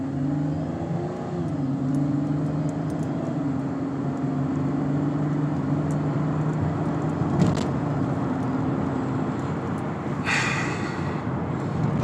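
A 2011 Chevrolet Camaro LS, freshly serviced with an oil change and fuel and intake system work, pulls away from a stop; a steady engine drone rises in pitch as it accelerates, loud and continuous with no talking.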